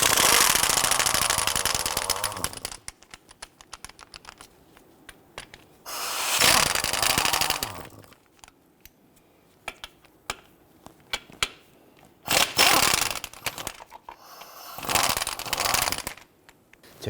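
Bolts are loosened with a 15mm socket from a transmission mount on a 2011–2021 Jeep Grand Cherokee, heard as several loud, harsh bursts of power-tool rattling separated by quieter gaps with small metallic clicks.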